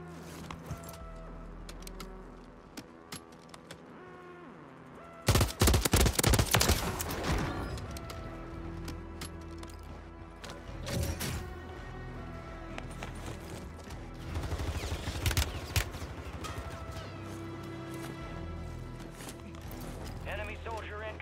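Video-game gunfire from Warzone 3 (Modern Warfare 3) erupts in loud rapid bursts, the heaviest around the middle, with quieter shots scattered between them and a player talking over the action.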